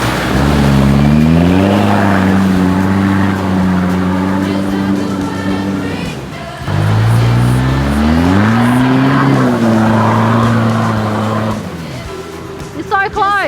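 An off-road car rattling and revving over a brutally rough track, its engine droning loud and close with rising and falling pitch swells, a brief dip midway, people talking over it near the end.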